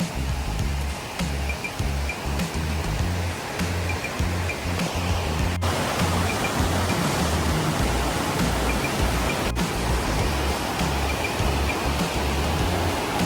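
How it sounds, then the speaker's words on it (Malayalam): Ezharakund waterfall in Kannur, Kerala, roars steadily with rushing water, a dense, constant wash that fills the scene without pause. "മുകളിൽ നിന്ന് വരുന്ന വെള്ളം കണ്ട നല്ല ഫോഴ്സ് ഉണ്ട്"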